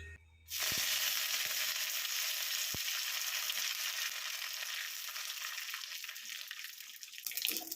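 Curry leaves and three dried red chillies crackle and sizzle loudly in hot oil for a Kerala okra tamarind curry tempering, a steady dense frying hiss starting abruptly after a brief quiet moment and continuing alone.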